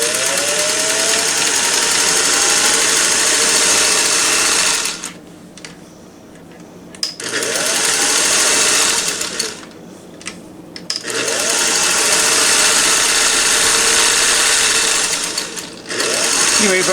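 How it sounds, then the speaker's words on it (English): A Singer Touch & Sew 603E sewing machine runs in loud, steady bursts of rapid stitching, stopping briefly twice before starting up again, with no talk over it. "So here we go, let's sew a little bit."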